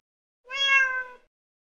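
A single close, clear cat meow, drawn out for under a second and standing alone against silence.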